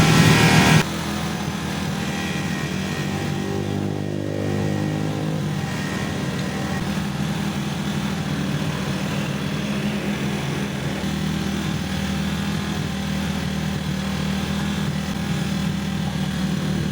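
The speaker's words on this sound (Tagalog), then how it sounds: "Pagpasensya nyo na, may ingay dito. Uh, meron kasing inaayos dun na uh, motor." A motorcycle engine, likely the Kawasaki KLX 150 being repaired during a timing chain replacement, idles steadily and fairly loudly at a workshop, a continuous buzzing drone that runs throughout without speech.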